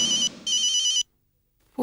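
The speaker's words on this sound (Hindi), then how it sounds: "अंजना जी को ही फोन करता हूं" A telephone rings in two electronic ringtone bursts while a call is being placed, the second burst longer, then silence before a faint sound returns at the very end.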